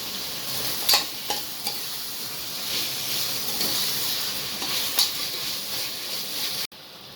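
Tomatoes and salt sizzle and fry in a pan with coriander and mint leaves, a steady hiss under repeated scraping stirs, with a few sharper clinks along the way.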